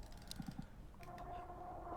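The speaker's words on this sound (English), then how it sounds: "Oh, sorry, I'm typing to someone." A few quick clicks of typing on a computer keyboard, faint and close, followed by a quiet hum.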